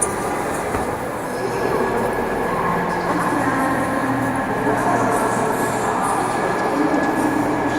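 Train at Antwerp station on the line toward Amsterdam, giving a continuous rumble of rolling cars with wheels squealing and screeching, heard close and steady with no talking.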